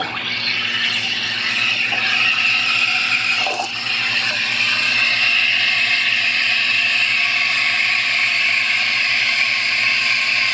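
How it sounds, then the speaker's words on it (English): A steam wand hisses steadily in milk with a shrill, high-pitched squeal running through it as the milk screams from too little air, loud and close, with no talking. "Milk screams when it does not have enough air,"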